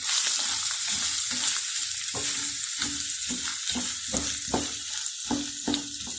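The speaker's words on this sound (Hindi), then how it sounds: "अब मैं चिकन और आलू डालने लगी हूँ, दोनों अच्छी तरह मिक्स हो जाए, फ्राई हो जाए हमारा।" Chicken and potatoes fry in hot oil, a steady loud sizzle broken by repeated scraping knocks of a spoon stirring the pan at an irregular rhythm.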